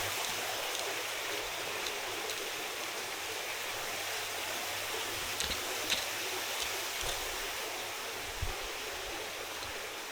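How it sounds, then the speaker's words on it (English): A garden pond fountain at a mosque, its water splashing in a steady, continuous rush with a faint low hum beneath and a few small clicks, no voices present. "a pond with a fountain"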